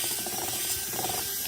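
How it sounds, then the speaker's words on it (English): A vacuum chamber used for resin casting runs with a steady, dense mechanical hiss and rattling whir that stays even and continuous throughout, close and fairly loud, with no voices. "I'm going to get this in the vacuum chamber."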